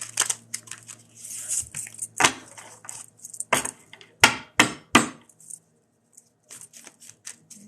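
Tarot cards shuffled by hand during a reading, giving a run of crisp riffling, slapping and flicking bursts, close and fairly loud, with a few quiet gaps and no talking.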